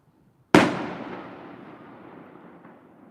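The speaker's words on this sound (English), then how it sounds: "the actual fireworks from Fremont across the bay" A single distant firework bursts across the bay, one sharp boom followed by a long fading rumble as it echoes out, alone with no talk.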